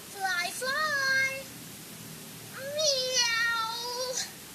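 A human voice imitates a cat, giving two drawn-out, rising-and-falling meows separated by a short pause, close and clear.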